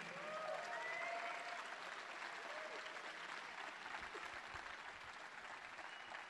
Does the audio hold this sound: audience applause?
yes